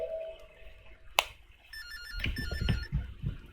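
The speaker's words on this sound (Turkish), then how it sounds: "Telefon çalıyor." A telephone rings in the Turkish horror video game Manipulate: Sacrifice, its repeated electronic trills rising clearly over a dim, low ambient rumble with a single sharp knock just before.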